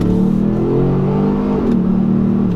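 A 2018 Ford Explorer Sport pulls away from first gear. Its engine note climbs steadily and loudly, dips briefly at a gear change and then keeps pulling, with no talking.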